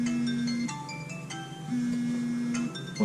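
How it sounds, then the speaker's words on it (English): A mobile phone rings indoors with a steady electronic tone that repeats in two long bursts, with faint clinks and handling noise around it. "What you could probably hear is my phone going off"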